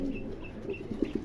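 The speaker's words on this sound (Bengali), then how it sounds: "চমৎকার একজোড়া কবুতর।" A pair of Pomeranian pouter pigeons coo softly at close range, with low, rounded notes growing in the final half second over a faint background hiss.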